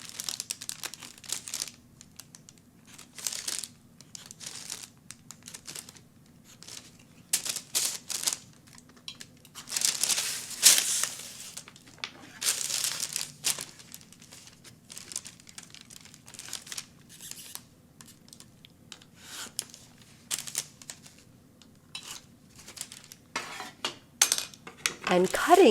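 Scissors snip through a paper skirt pattern along the top edge of the half-inch seam allowance, with the dart pinned shut. Irregular close crisp cuts and crinkling paper rustles come in scattered bursts over a quiet background.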